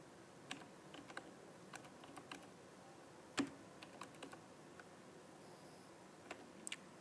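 Someone types a search into a Google browser on a computer keyboard. Quiet, irregular key clicks tap out in short bursts, with one louder keystroke midway and no voice.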